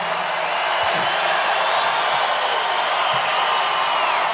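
A large rally crowd in Hershey, Pennsylvania roars steadily, a dense continuous wash of cheering and shouting voices that holds at an even loud level throughout, with no single voice standing out.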